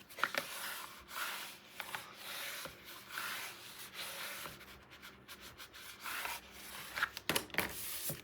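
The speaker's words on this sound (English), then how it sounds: "And now I'll burnish." Tape is rubbed down by hand onto a paper mini album page, producing soft close scraping and rubbing strokes in an irregular rhythm, quiet and without talk.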